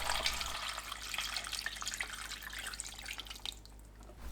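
Water streams steadily into a pot holding scorched rice, a continuous splashing rush with faint drips, close by and alone without voices.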